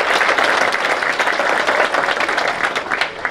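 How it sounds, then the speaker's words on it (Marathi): Loud, sustained applause from an audience at a public event in honour of the people of Anjanapur, a dense wash of clapping that stays steady throughout and eases slightly at the end. "अंजनापूरच्या लोकांसाठी टाळ्या वाजवा जोरदार एकदम."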